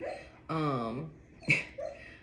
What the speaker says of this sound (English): excuse y'all if y'all hear that noise, that's my dog in the back